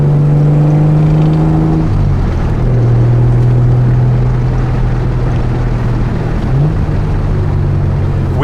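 A 1970 Triumph TR6 engine pulls strongly under acceleration while driving, its steady loud drone rising and then dropping in pitch around a gear change, continuous and close throughout with no talking.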